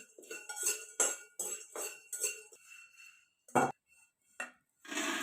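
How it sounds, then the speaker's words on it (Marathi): Roasted chickpeas (phutane) tossed in a pan over a wood-fired chulha, giving bursts of dry rattling and scraping clinks that stop and start, with a few sharp isolated knocks near the end. "आता मी फुटाणं भाजून घेणार आहे"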